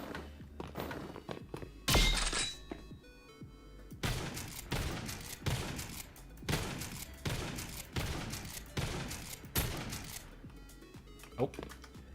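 Repeated shots from an R870 shotgun in a video game sound in a regular series of sharp, loud blasts spaced about a second apart, each with a short decaying tail, while a person talks over them.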